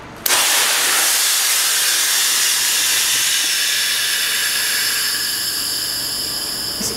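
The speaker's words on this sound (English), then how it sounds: "so we're gonna set off this bag right now" An ABS avalanche airbag backpack being triggered outdoors, a sudden loud burst followed by a continuous forceful hiss of gas rushing in as the bags fill, holding steady for several seconds.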